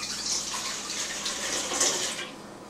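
Water poured into a bowl for pretzel dough, a steady splashing gush lasting a couple of seconds and easing off at the end, close and clear, with no talking.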